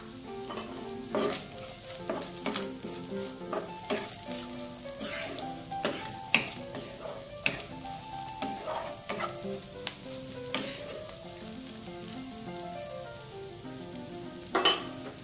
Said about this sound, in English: you add the fried potatoes and stir everything together.